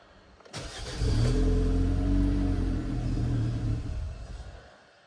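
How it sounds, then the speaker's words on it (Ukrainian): A Kia Carens 3 with the G4KA engine cranks and fires, idling with a loud low rumble for a few seconds before it falters and stalls, the sound dying away at the end. "заводимо автомобіль і чекаємо, аж допоки двигун не заглохне"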